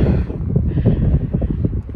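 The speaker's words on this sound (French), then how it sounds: "Il y a pas mal de vent." Strong wind buffets the microphone outdoors in loud, gusty low rumbles that keep going the whole time, with no clear speech.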